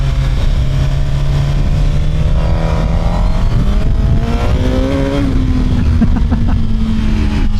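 A 2027 Suzuki GSX-R1000 sport bike pulls hard through its gears, the quick shifter giving rapid upshifts as the engine note climbs and steps again and again, loud and close with steady wind roar throughout.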